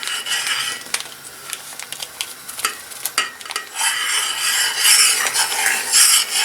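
A spoon stirs milk semolina pudding in a pot, scraping and clinking against the metal in quick, close strokes over a soft bubbling sizzle that grows louder toward the end.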